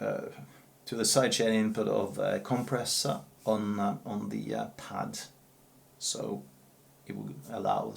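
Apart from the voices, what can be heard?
None of the usual background noises is heard.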